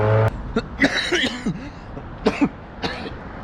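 A few harsh coughs and throat clearing in quick succession, close by, with a low hum of traffic in the background.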